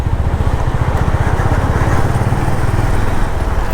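A motorcycle engine drones steadily while riding on an early morning ride, with a loud, close, pulsing low rumble that holds throughout.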